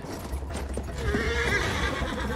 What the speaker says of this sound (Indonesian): kita naik kuda lagi, teman-teman